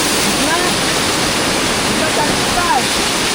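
Rain-fed stream rushing over rocks during monsoon, a loud, dense, unbroken roar of flowing water close by, with faint voices barely rising above it.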